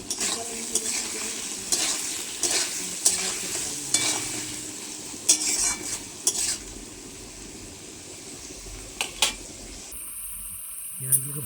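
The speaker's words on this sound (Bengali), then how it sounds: "পেঁয়াজগুলোকে ভালো করে কষবো" Onions sizzle and fry in hot oil in a home kitchen as a utensil stirs them now and then, with scraping clinks against the pan over a steady hiss that drops away near the end.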